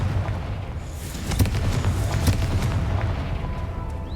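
A Confringo fire spell explodes in the Hogwarts Legacy video game, giving a rumbling blast with crackling bursts and a couple of sharp pops over a sustained low roar, moderately loud.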